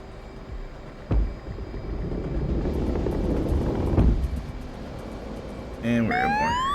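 Jet engine roar from an A-10C taking off in the DCS flight simulator, a steady broadband rumble that swells after a couple of thuds, with a voice speaking over it near the end.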